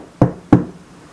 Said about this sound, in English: It's me knocking.